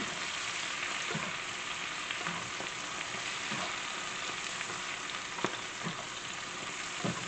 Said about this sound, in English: let me stir this up a little bit